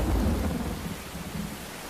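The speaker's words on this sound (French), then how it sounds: "un peu de pluie n'a jamais tué personne." Steady rain hisses while a deep rumble of thunder rolls low and fades over a couple of seconds, with no voices.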